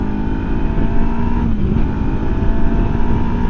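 A MUTT Stravaig 401 motorcycle pulls hard up through its closely spaced gears, the engine note loud and steady with a brief dip around a shift midway before climbing again.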